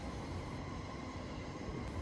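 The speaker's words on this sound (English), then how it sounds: "From here, you can see trains on the Yamanote Line and the Keihin Tohoku Line from almost the same level" Yamanote Line and Keihin-Tohoku Line trains pass through Akihabara, heard from an overlooking observation deck as a faint, continuous rumble of wheels and rail noise with no voices.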